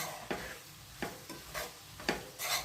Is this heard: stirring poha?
yes